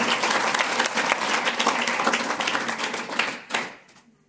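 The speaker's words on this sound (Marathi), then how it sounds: "म्हणून त्याच्यासाठी पुन्हा एकदा आपण जोरदार टाळ्या वाजवूया." Crowd gathered for a Shivaji Maharaj Jayanti celebration gives loud, sustained applause, many hands clapping together before the sound thins out and fades near the end.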